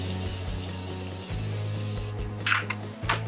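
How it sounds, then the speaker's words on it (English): Makeup setting spray mists onto a face in a continuous close hiss lasting about two seconds, followed by a few soft rustling handling sounds over a low background hum. "I'm going to be spraying my face all over"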